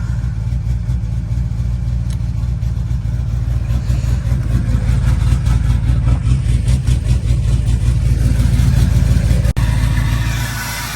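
Cold car engine idling at a dealers-only auction, a loud, rough, steady rumble with slight swells in revs and no talk over it.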